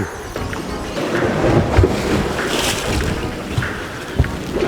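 Boat engine and water noise on a fishing boat off Jeju on a deep-sea cuttlefish trip, a steady loud rumble with wind and splashing waves and a few brief thumps.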